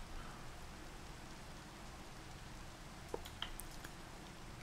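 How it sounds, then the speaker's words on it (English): Rain in the modded Minecraft pack All the Mods 4, a quiet steady hiss of rainfall with a couple of faint brief clicks partway through. "it's just raining"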